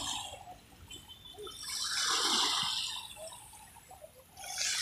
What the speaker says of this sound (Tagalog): pakinga na bawat hampas ng alon